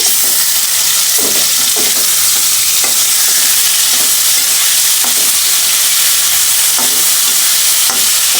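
Potatoes and fish frying in a pan with crushed garlic, salt and turmeric, a steady loud sizzle throughout with repeated scraping stirs of a utensil at irregular intervals.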